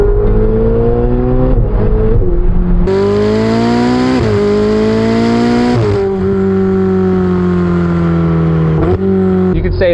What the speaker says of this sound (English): Say it's probably the best sounding turbocharged motor there is out there.